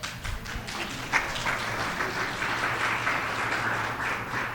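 Applause from a conference audience, a steady wash of many hands clapping at moderate distance, with a few sharper taps and a thump near the start.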